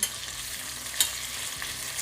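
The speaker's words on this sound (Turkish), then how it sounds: "Ve diğer tarafında kızarmasını istiyorum" Steady, dense hiss of chicken frying in oil with faint crackles and one brief louder pop near the middle; no voices.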